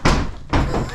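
A door in an abandoned farm stable complex in Brighouse on a windy day, banging shut with two heavy thuds close by in quick succession, while voices talk around it.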